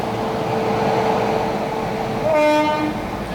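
A Vistadome Janshatabdi train rumbles steadily, with a brief tonal horn-like note rising midway through the rumble.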